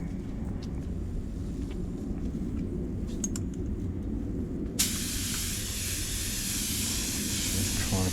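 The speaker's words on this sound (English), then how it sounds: "Using the Iwata LPH 80. It's a little limited edition one I've got. That's for base coat." An Iwata LPH 80 spray gun spraying base coat on a Range Rover Velar door starts with a sudden, loud, steady hiss about halfway through, following a quieter stretch of low background rumble and small clicks.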